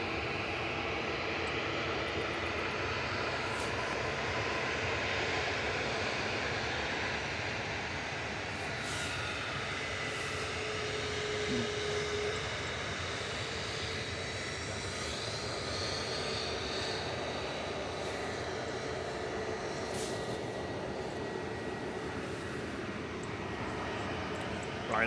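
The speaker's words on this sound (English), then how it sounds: "these aircraft that had originally been given clearance for 2-3 left departure, just doing a U-turn and backtracking" Airliners taxi at Manchester Airport, U-turning and backtracking after a runway 23L departure clearance, a steady distant engine drone holding for the whole stretch with slow shifts in pitch and no talking.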